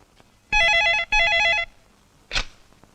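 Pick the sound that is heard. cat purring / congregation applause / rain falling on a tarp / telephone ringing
telephone ringing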